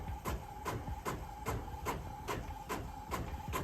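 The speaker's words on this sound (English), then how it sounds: "And this was a converted printer with Cosmos ink." A converted Epson sublimation printer loaded with Cosmos ink prints on a high-quality setting, its print head sweeping back and forth in a steady mechanical rhythm about every half second, with no voices.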